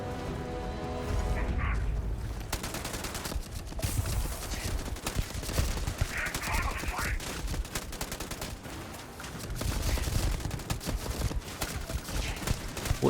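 Rapid turret gunfire from the video game Starfield, loud, dense bursts of shots rattling almost continuously, with heavier booms mixed in and a brief voice at times.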